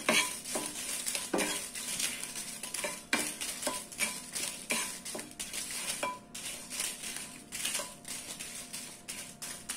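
Ten dried red chillies being dry roasted without oil in a plain kadai over a medium flame give repeated scraping strokes of a spatula on metal over a faint, light sizzle, heard close by and without talk.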